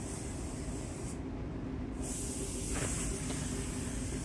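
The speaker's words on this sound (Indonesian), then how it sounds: "Sebaiknya kita tabur atau drop coat dulu pernisnya untuk mengikat pernis dari lapis pertama yang akan kita semprotkan nanti" A spray gun hisses steadily and close while laying a light drop coat of clear varnish onto the body panel of a Toyota Yaris during a repaint, continuous airy spray with a brief dip midway.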